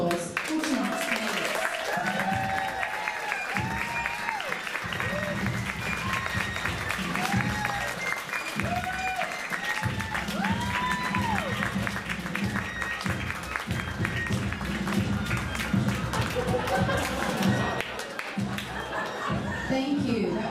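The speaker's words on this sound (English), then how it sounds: "Let me give a great round of applause for tonight's candidates." Audience applause welcoming candidates onstage at a mock presidential event, sustained clapping from a crowd with scattered laughter, cheers and chatter mixed in, running steadily throughout.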